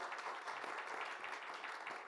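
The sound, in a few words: audience applause for staff and interpreters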